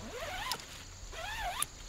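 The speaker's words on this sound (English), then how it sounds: "That is a YKK zipper." A YKK zipper on a Helikon-Tex Swagman roll blanket is pulled in two smooth, rising zips, each ending in a small click, close and clear over a quiet background.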